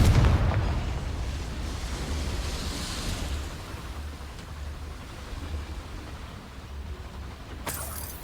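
A Confringo blasting spell explodes in Hogwarts Legacy: a loud burst at the start that fades into a long, rumbling low roar, with a sharper crack near the end.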